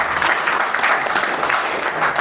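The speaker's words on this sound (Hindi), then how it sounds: "धन्यवाद आपकी तालियों के लिए" Steady audience applause at a felicitation ceremony for an actor from Jammu, dense and continuous at moderate loudness with no pauses, many hands clapping at once.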